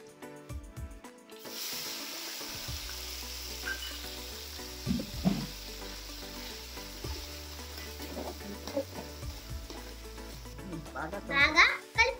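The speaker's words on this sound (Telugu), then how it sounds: "పచ్చి వాసన పోయే వరకు మేము ఫ్రై చేసుకుందాం." Curry paste for Nellore fish curry, with curry leaves, frying in a hot pan, a steady close sizzle with occasional stirring scrapes, running continuously after a quiet start.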